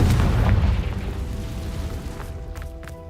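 A Confringo blasting spell explodes in the video game Hogwarts Legacy, a loud booming blast that rumbles and fades over a few seconds while soft game tones ring underneath.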